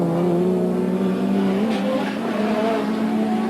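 A 1989 touring car race at Mallala, with Chris Lambden's Holden Commodore among the pack: loud, sustained engine drone with steady and shifting pitches as cars pass close by, brief tyre squeal.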